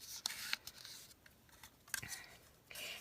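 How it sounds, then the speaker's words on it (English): A paper trimmer slices through cardstock in a few short, crisp cuts, the sharp rasps separated by quiet pauses, with craft-room handling noise close by. "I'm going to go ahead and trim this one off"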